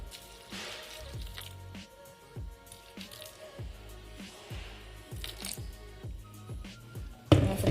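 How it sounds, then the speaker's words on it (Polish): Water is poured onto strained oats for a protein burger, giving soft wet dripping and squishing sounds in an irregular rhythm, close and fairly quiet, with no talking. "Do płatków dodaję wodę."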